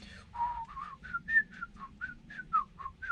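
A whistle-shaped object pulled from scrap metal gives a string of about a dozen short, thin whistling tones that bob up and down in pitch. The tones come in a fairly even rhythm, quiet but clear over a low background rumble.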